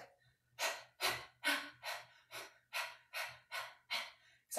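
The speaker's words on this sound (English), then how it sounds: "We're going to do something called Kapila Bhakti, breath of fire." Yoga breath of fire during an all-levels flow class: about nine quick, rhythmic, forceful breath bursts at a steady pace, close but fairly soft, with no talk.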